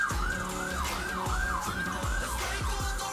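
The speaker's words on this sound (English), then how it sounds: "There's an ambulance going by, and there's just nothing we can do about that." An ambulance siren wails past in a steady rising-and-falling sweep, loud and continuous throughout, with a low rhythmic musical beat playing underneath.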